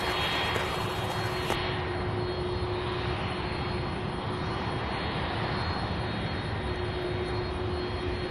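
A jet airliner roars steadily on takeoff from runway 35 right at Louisville's SDF airport, a loud, continuous broadband engine rumble with a thin high whine running throughout, no voices.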